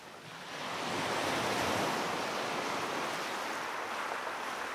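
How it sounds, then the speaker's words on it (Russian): Ocean surf used as a sound effect in an audiobook, a steady broad wash of breaking waves that swells in over the first second and then holds loud and continuous, with no voices. "Шум прибоя почти заглушал звуки радиоприемника."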